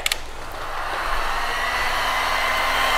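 Heat tool blowing hot air over epoxy on a tumbler, a loud steady whooshing drone that starts after a few faint clicks and holds for the whole stretch with no speech.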